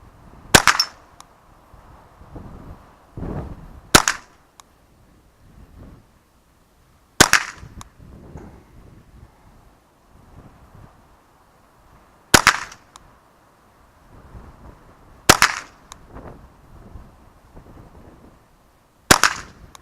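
Ruger 10/22 rifle firing single shots outdoors, six sharp cracks spaced a few seconds apart, loud and close with quiet breezy gaps between them.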